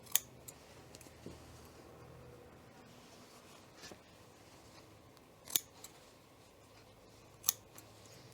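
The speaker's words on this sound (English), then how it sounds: "And then we're going to cut into each corner all the way up to the stitching." Scissors snip into the corners of a fabric welt pocket box up to the stitching, giving a few isolated, crisp cuts spaced seconds apart against a faint quiet room.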